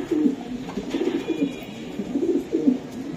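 Racing pigeons from a well-known club coo in soft, repeated low bursts, close by and steady over a faint background hum, with no talk.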